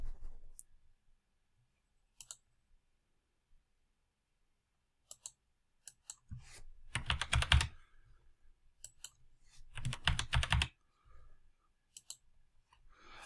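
A computer keyboard clicks in a few scattered keypresses, then two dense bursts of fast typing, with quiet pauses between them.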